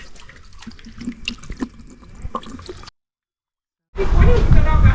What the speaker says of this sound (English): water supplies all the taps in this house